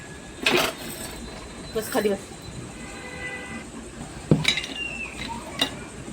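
About half a kilo of homemade besan roasting in hot ghee in a pan, stirred constantly with a spoon: a few sharp scrapes and clinks against the metal stand out over a low steady background.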